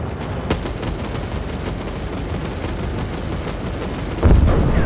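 Gunfire and explosions from the mech combat game Mecha Knights: Nightmare rumble as a dense, continuous barrage of shots, with a heavier blast thumping in near the end.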